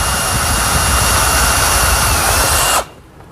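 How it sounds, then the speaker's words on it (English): A power drill boring a pilot hole for a door hinge on a laundry center cabinet, a loud steady high-pitched whine that runs nearly three seconds, then cuts off abruptly. "drill a pilot hole"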